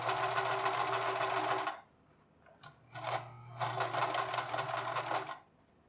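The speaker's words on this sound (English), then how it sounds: "then we can sew all the way along" A sewing machine stitches a cap's back piece onto its front piece in two close, steady whirring runs, separated by a short quiet pause with a few faint handling clicks.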